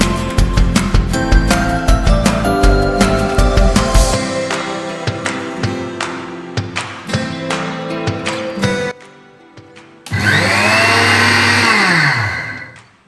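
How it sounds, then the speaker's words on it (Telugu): A kitchen mixer grinder loudly grinds roasted sesame seeds in pulsing bursts for several seconds, pauses to a low hum, then roars again in one sustained whirring run that cuts off at the end. "వేయించిన ఈ నూపప్పు చల్లారిన తర్వాత మిక్సీలో వేద్దాం"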